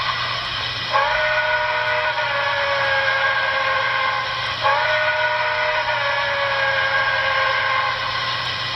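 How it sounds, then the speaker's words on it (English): A Broadway Limited Santa Fe 4000 class 2-8-2 model locomotive steam whistle, Paragon 4 sound with CV224 set to 2, sounds twice, each a sustained breathy multi-tone blast over a steady hum, the second starting just after the first fades. "And here is the whistle with CV224 programmed to number 2."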